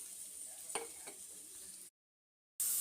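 Sliced onions frying in hot oil for samosa filling, a faint sizzle with a couple of spoon scrapes as they are stirred, cutting off abruptly before a short loud burst at the end.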